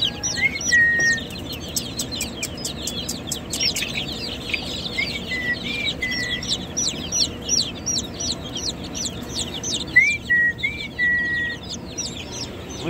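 Newly hatched chicks on a homestead chirp and cheep in rapid high bursts throughout, close and fairly loud, with softer clucking calls from chickens mixed in at times and no talking.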